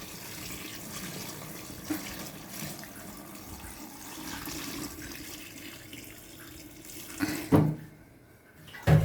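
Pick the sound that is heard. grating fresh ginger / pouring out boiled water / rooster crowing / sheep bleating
pouring out boiled water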